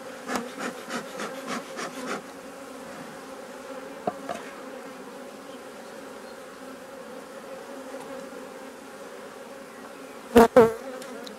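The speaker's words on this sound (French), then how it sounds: "Là on voit que les abeilles remontent." Honeybees hum in a steady close buzz over an opened hive, with a few wooden taps and scrapes at the start and two sharp knocks near the end, no talk.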